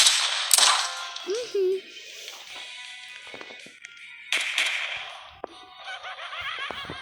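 Gunshots ring out in a shooting video game: a few sharp, isolated cracks, near and fairly loud, separated by quieter game effects and a short electronic tone.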